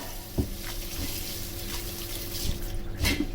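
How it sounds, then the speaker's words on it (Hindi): Cold water pours and splashes steadily over drained noodles in a strainer, a soft continuous rush with a few light knocks, fairly quiet and close. "इसके ऊपर थोड़ा हल्का ठंडा पानी इसके ऊपर डालेंगे"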